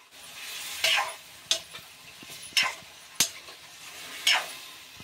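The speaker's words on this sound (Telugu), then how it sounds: "ఎక్కడ పెరుగు తడకలు లేకుండా బాగా మిక్స్ చేసుకోవాలి." Biryani masala and yogurt being stirred in a pot, a spoon scraping the pot in about five separate strokes, fairly close and moderately loud over a low background hiss.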